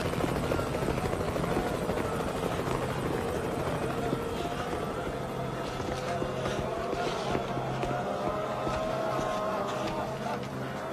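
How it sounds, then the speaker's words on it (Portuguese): Helicopter in a zombie apocalypse action movie, its rotor chop and turbine whine running loud and continuous throughout, with frantic action-scene sounds mixed in. "Devem ter sido atraídos pelo helicóptero."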